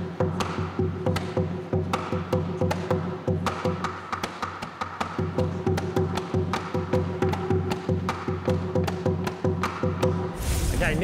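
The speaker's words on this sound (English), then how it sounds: "When you use a mallet, try not to bend your elbow and hit the drum" Plastic bucket drum struck with a mallet in a quick, steady run of sharp resonant hits, loud and close, over about ten seconds.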